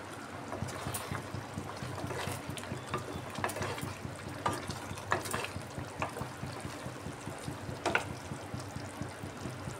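Tender okra frying in a pan with red and green chillies added: a steady, close sizzle and bubbling with scattered pops and stirring scrapes throughout, no voices.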